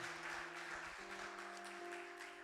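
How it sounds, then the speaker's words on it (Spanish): A church congregation applauds during a service, a continuous wash of clapping heard alongside sustained organ or keyboard tones that shift pitch partway through. "Aplauso al Señor"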